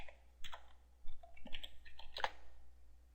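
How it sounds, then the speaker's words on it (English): Scattered keystrokes on a computer keyboard tap out a search in a plugin page, a few quick bursts of clicks with pauses between, fairly quiet with no talk. "And then we'll go to the search and we'll type in TubePress."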